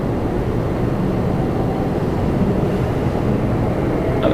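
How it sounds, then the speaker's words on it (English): A Republic Airways Embraer 175 airliner coming in to land at Toronto Pearson gives a continuous broadband jet rumble, steady and fairly loud, with wind-like noise mixed in and no break. "Alright, Embraer 175 coming in next."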